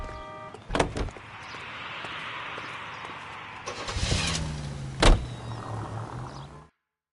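A car driving in the video game L.A. Noire: a steady engine drone with a few sharp thumps and clunks along the way, cutting off abruptly at the end.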